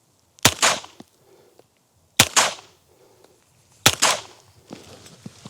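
Three sharp shots from a Fort-12R less-lethal pistol, fired at a meat target from 10 metres, each a loud crack with a short tail, spaced about two seconds apart, with a faint rustle between.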